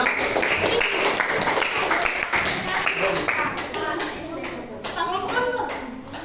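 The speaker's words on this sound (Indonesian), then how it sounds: "Beri tepuk tangan untuk kelompok 6." A primary school classroom in Palembang claps for a student group after its poster presentation. Many children clap together loudly in a steady, near burst that slowly fades, and children's voices chatter over it.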